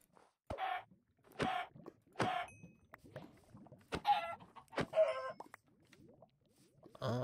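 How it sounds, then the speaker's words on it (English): Video game chicken clucking in a hardcore survival world, a series of short sharp clucks repeated every second or so, close and clear with no talk over them. "Hello, chicken."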